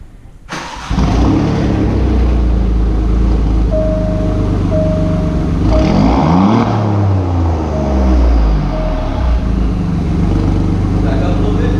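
Alfa Romeo Giulia exhaust starting up and idling loudly close by, with a steady rumble and a couple of revs swelling and falling midway; a voice speaks briefly under the engine.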